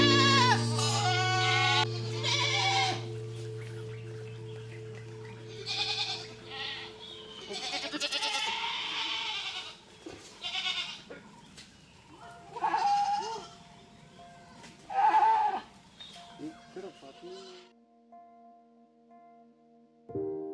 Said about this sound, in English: They raise goats and cows for meat and milk production.